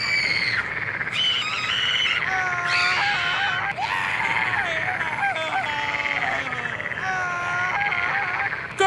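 Animated frogs in a Passover Bible cartoon croak loudly and continuously, a dense chorus of overlapping squawky croaks filling the whole stretch with no pauses.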